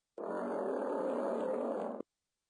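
A lion gives a single deep, rough roar of about two seconds, loud and near, with silence on either side.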